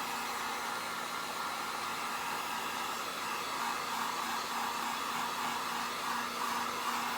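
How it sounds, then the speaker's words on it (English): A Harbor Freight heat gun blows steadily while drying a coat of paint on a Dollar Tree ornate frame sign, a continuous close airy whoosh with a faint hum, heard alone throughout. "I'm gonna grab my heat gun. My heat gun is from Harbor Freight,"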